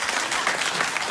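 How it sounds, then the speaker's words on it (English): A late-night television studio audience claps in a dense, steady burst of applause, loud and close for about a second. "Laugh and clap and enjoy for your very lives."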